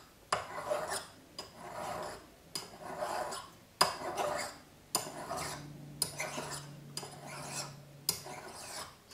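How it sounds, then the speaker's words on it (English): A metal file rasps back and forth across the end of a silver cuff bracelet in about eight steady strokes, close and evenly paced, its tone shifting partway through. "See how the tone of the file changes? That's when you know you're flat up against the surface."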